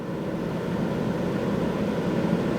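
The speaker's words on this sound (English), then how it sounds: "this is medium" Enviroklenz air purifier fan running steadily at medium speed, a constant broadband whoosh of moving air with no variation, close and fairly loud, with no voices.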